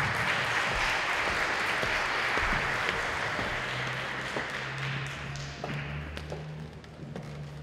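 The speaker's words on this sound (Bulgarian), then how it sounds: "Аплодисменти за Мариана Хамънова!" An audience claps for a speaker at a business talk, a loud sustained round of applause that slowly thins and tapers, with a low hum coming through as it fades.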